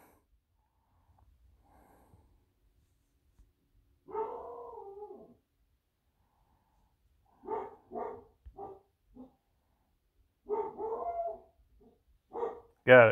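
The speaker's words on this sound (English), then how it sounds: "What are you barking at?" Pet dog indoors giving scattered barks and howl-like yelps: a long whining bark, then several short separated barks and a final loud burst, with quiet gaps between.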